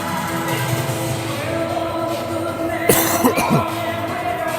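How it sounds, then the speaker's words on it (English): A single sharp cough bursts out over a steady crowd murmur in a large ice hockey arena during a youth hockey game, followed by a couple of smaller rasping coughs. "Sorry about the cough."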